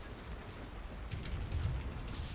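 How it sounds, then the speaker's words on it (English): Steady rain hisses over a low rumble, constant and fairly close, in a Roll20 tabletop game session, with no voices. "I realized the rain is in game."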